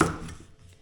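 A single close knife chop lands on a leek, a short thud that fades quickly.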